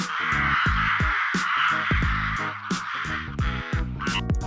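Rooks caw in a rapid, overlapping series of harsh, loud calls close by, several birds repeating one after another with no talking.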